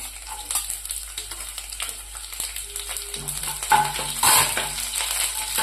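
Chopped garlic sizzling and being stirred in a hot pan for vada pav, with a steady fry hiss, scraping clinks of a utensil against the pan, and a louder burst of sizzle near the end.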